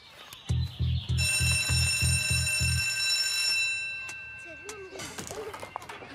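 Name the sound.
school bell ringing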